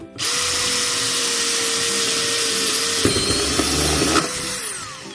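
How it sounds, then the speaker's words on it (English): A power drill whines steadily as a step bit cuts through aluminium, the pitch shifting partway through with a grinding edge before winding down. "This is great for drilling through aluminium."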